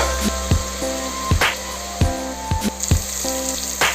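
Masala paste for a mutton curry frying in a pan, a steady sizzle punctuated by regular scraping knocks of stirring, close and fairly loud with no talking.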